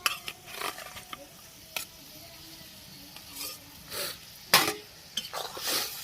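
Spicy egg curry (kasha dim) is stirred in a pan, with scattered scrapes and clinks of a spatula over a low sizzle. The strokes come in irregular bursts and are heard close up.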